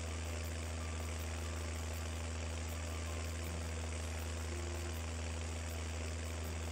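A tractor engine idles in Farming Simulator 19, a steady low rumbling drone with constant vibration that holds unchanged throughout, loud and continuous with no talk.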